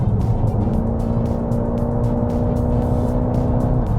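A 2024 GWM Ora 07 electric car plays its simulated sport engine sound: a loud, rumbling hum holds a steady pitch for a few seconds, then drops away near the end, with a rough, growly texture.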